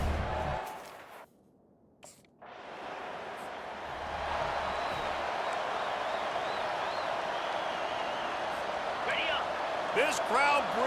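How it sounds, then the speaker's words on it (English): A stadium crowd roars in the EA Sports College Football 25 video game, a broad, steady wash of noise after a brief dip, with game commentary voices talking over it. "This crowd bringing the energy and noise early."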